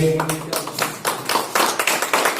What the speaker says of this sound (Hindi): तो तालियां बजा के